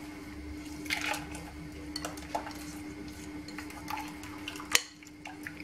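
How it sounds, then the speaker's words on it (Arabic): A spoon stirs a cake mixture into milk in a pot, making soft, faint liquid swishes with scattered light clinks against the side and one sharper knock near the end. "غادي نخلط مزيان"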